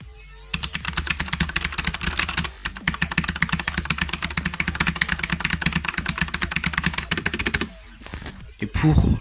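Rapid, steady keystrokes on a Corsair K95 RGB Platinum mechanical keyboard clatter close to the microphone for several seconds, with a short pause partway through and some speech at the end.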